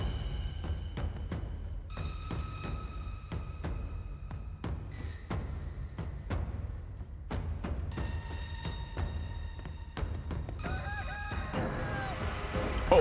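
A giant chicken in the video game Chicken Feet: Breakout DLC clucks and crows in repeated bursts over a steady low game rumble, with sharp clicks and rising squawks toward the end.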